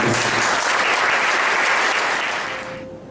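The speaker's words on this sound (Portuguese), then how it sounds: "Dê palmas para Jesus." A church congregation claps together in dense, loud applause that holds steady, then fades out near the end.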